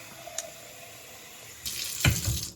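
Cold water from a kitchen tap runs through a LARQ under-sink filter, opening with a quiet trickle before a louder burst of rushing, sputtering flow near the sink.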